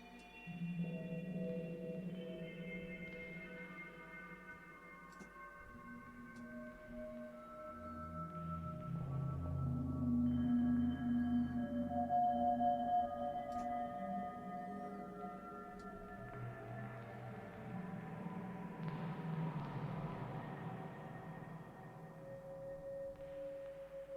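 Eerie synth drone pad built in Ableton Live with echo, layered sustained tones slowly shifting pitch and swelling, with echoing repeats and a dark, hollow, whale-like character, heard alone.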